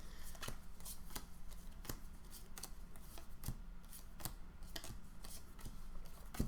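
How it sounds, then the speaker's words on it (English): A deck of Magic: The Gathering cards being shuffled by hand, with a rapid series of crisp riffle and snap bursts at an even pace, close up and quiet with no talking. "Always reshuffle after every game."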